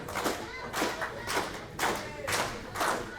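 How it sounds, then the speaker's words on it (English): Live pro wrestling crowd clapping in a steady rhythmic unison, about two claps per second, loud and close, with faint voices mixed in. "Crowd here once again getting behind Frankie Quinn as she fights out"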